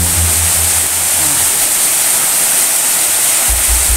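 Waterfall rushing loudly and continuously near a cave, a dense steady roar of falling water with a faint low hum underneath.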